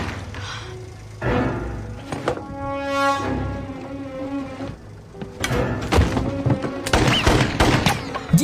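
Gunshots ring out in a drama scene on a remote island after a plane crash: several sharp, separate bangs, some loud, mixed with resonant tones and other impacts.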